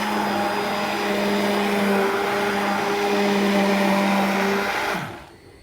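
An electric mixer whirs steadily while blending homemade ice cream taken from the deep freezer, a loud continuous motor hum with tonal whine that winds down and stops near the end.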